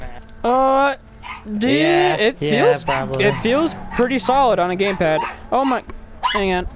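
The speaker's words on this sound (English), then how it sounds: "And apologies for my dogs." Pet dogs yip, whimper and bark loudly in a home during a Gran Turismo Sport gaming session. The animal sounds are close and come in repeated bursts, mixed in with someone talking.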